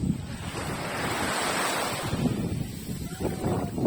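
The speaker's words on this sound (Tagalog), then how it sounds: "Banayad yung dagat." Gentle surf washes steadily onto the shore at Apatot Beach, Mariveles, Bataan, a soft continuous rush of waves with wind buffeting the microphone.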